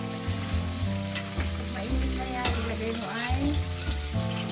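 Onions going into hot oil in a home kitchen pan, a loud, steady sizzle and crackle with occasional stirring scrapes, close and continuous, with faint background tones throughout.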